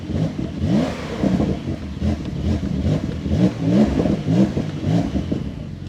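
A 2021 Porsche 911 Carrera S engine revs with its exhaust valves open, giving a throaty, fluctuating growl that rises and falls in repeated surges, close and fairly loud, with no voices.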